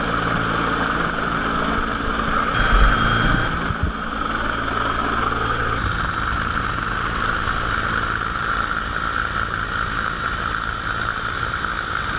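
An EMQ rescue helicopter drones steadily and loudly throughout, its rotor and engine noise constant and close, with a brief thump partway through.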